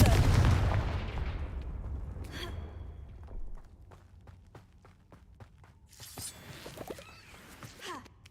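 A Confringo blasting spell explodes in Hogwarts Legacy: a loud, deep burst at the start decays over a few seconds, then come light footsteps and a second rougher crackling burst.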